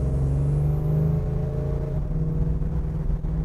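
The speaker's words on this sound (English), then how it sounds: "Just love the rumble of the exhaust. Nothing sounds like a big block Chevy" A 1972 Chevrolet Chevelle SS with a big block V8 idles with a deep, steady exhaust rumble, close and loud, with a slight pitch drop partway through and no talking.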